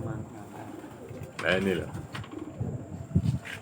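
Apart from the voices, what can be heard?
pigeons cooing in a loft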